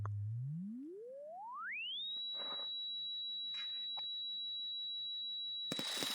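A pure electronic sine wave tone glides smoothly upward in frequency from a low hum to a high pitch, then holds steady, with a few faint clicks in the background.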